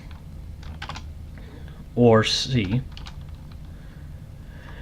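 Quick clattering keystrokes on a computer keyboard come in a short burst of several taps mid-clip, close and fairly loud, with someone speaking briefly around them.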